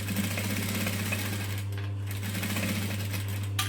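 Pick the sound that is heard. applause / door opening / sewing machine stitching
sewing machine stitching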